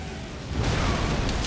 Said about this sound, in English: I don't know if you actually can dodge at the right time to completely dodge the explosion attack